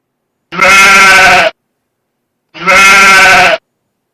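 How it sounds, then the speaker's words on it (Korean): Two loud bleats from a sheep, each about a second long and separated by a pause, with no talk over them. "양의 소리 한번 들어볼까요?"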